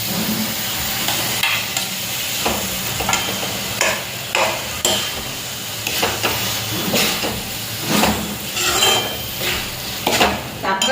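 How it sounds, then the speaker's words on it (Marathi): A spiced, turmeric-tinted mixture is stirred into eggplant roasting in a pan for bharit, with rhythmic scraping strokes about once a second over a continuous close sizzle. "आता मी हे कालवलेलं सुद्धा याच्यात मिक्स करते"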